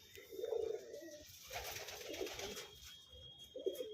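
A female pigeon coos in three soft, low, rolling bursts spread across a few seconds, close by and fairly quiet.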